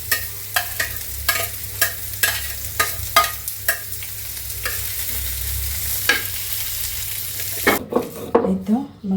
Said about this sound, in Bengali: তারপরে যে কাঁচামরিচ ভেজে নিব, তারপরে রসুন পেঁয়াজ একসাথে দিয়ে ভেজে নিব